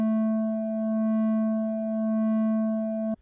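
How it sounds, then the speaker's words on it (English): Steady FM synthesizer tone from Bitwig Studio, a single sustained pitched note with a gently wavering level, holding for about three seconds before stopping abruptly. "So I'm going to start to evoke a little bit of frequency modulation here."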